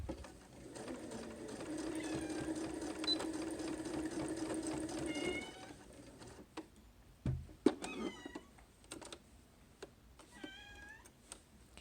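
A sewing machine hums steadily at close range for about five seconds while stitching pleats into a fabric mask, then stops, followed by a cat's meows and scattered handling clicks.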